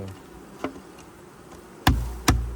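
A dense, close buzz of honeybees fills the background, broken by two sharp knocks as a hive frame is shaken to dislodge the bees.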